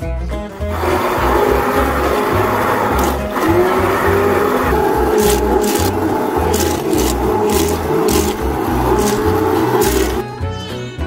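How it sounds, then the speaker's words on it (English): A steady, loud motorized whir of an immersion blender churning blueberries for jam, running continuously for about ten seconds with slight pitch shifts as it mixes. "now we're going to go ahead and use our immersion blender"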